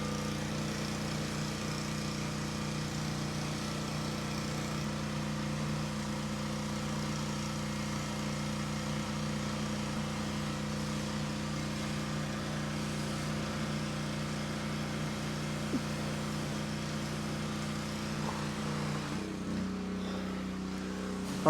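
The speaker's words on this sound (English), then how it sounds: "he's power washing out our side-by-side" A pressure washer runs steadily as a side-by-side is sprayed clean, its motor droning loud and continuous with a strong low hum before the pitch drops near the end.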